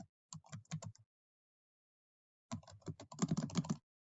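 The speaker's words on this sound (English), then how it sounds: "if I'm typing too fast or you're having a hard time keeping up with the typing part of this" Rapid clicking keystrokes on a computer keyboard come in two bursts separated by a silent gap, the second burst longer and denser, close and crisp with no voices.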